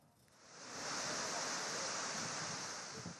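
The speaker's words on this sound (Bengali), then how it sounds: "ঝুম বৃষ্টি সঙ্গে বাতাস, ছাতা ধরে রাখা দায়" Heavy rain driven by wind pours over a cricket stadium in Chattogram, a dense, steady hiss that swells in over the first second and then holds broad and constant, with no voices.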